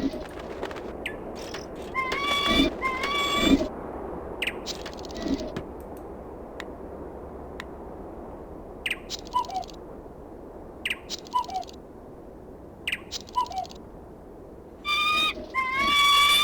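Bird sounds in the adventure game Lighthouse: The Dark Being, with repeated short chirps and cooing calls scattered over a steady low ambient hum, some in quick clusters, others spaced apart.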